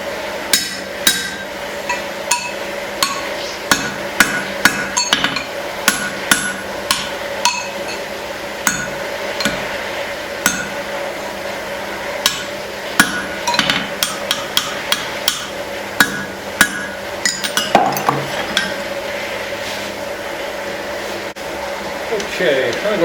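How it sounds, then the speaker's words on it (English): Hammer blows ring out while forging a small hammer with a guillotine tool, irregular sharp metallic strikes and clinks over a steady background hum, with a voice talking at times. "use my guillotine tool and isolate the two hammer ends."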